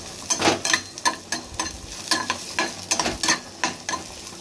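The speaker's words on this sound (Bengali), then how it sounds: "আর এখানে আলু ফুলকপি ভাজা হচ্ছে" Potato and cauliflower sizzle in a pan while a spatula stirs them in repeated scraping strokes, close and fairly loud, with no voices.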